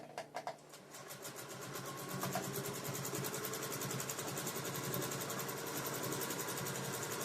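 Grace Mini quilt frame carrying a domestic sewing machine free-motion quilting a meander, a steady fast mechanical needle chatter with a continuous motor hum running close and unbroken after a brief start.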